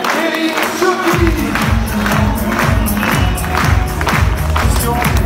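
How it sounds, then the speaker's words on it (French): Crowd applause and cheering at a politician's New Year greetings event in the Palais de la Méditerranée, Nice: a loud, continuous roar of clapping and voices with a thumping low rhythm running beneath it. "Il mérite vos applaudissements, Éric Ciotti."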